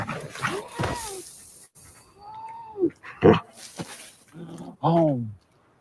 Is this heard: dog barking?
yes